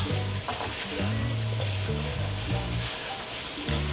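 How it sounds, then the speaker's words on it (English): Bulgogi sizzles loudly while being stir-fried in a hot skillet, with a steady crackling hiss and occasional scraping and clattering of a utensil. "then you can start stir frying"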